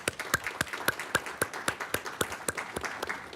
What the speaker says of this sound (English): I'd like to give you a hand of applause.